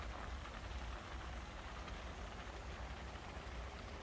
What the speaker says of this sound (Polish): deszcz i świeci słońce